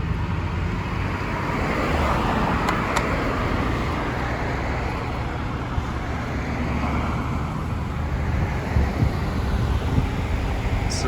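A car drives along Buford Highway past a library construction site, steady road and tire noise mixed with wind buffeting on the microphone, continuous and fairly loud with no talk.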